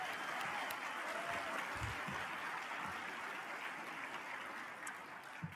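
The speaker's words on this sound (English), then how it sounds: "So let's give another round of applause to the Army Division Band" Sustained audience applause at a conference opening general session, a steady dense wash of many hands clapping at an even level throughout, with no voice over it.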